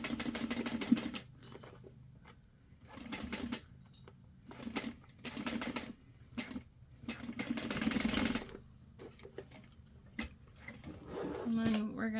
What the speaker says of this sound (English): we're just going to sew those at a 1/4 of an inch also